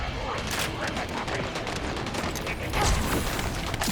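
Shotgun gunfire in the shooter game The First Descendant, rapid overlapping blasts and mechanical clatter in a busy combat mix, with a voice talking over it.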